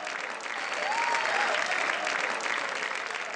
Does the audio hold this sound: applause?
yes